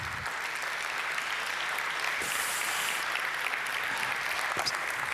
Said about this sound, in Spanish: Cuando queráis, un fuerte aplauso para ellos.